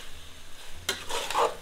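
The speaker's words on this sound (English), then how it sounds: "Now you need to keep browning the meat and the masala for quite a long time" Lamb and masala browning in a pot for dal curry, stirred with a spoon: a soft sizzle, then a sudden scrape and a brief burst of frying crackle.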